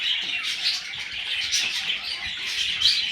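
Pet birds chirping indoors, a dense stream of small high tweets and twitters from several birds, moderately close and steady, with no talking.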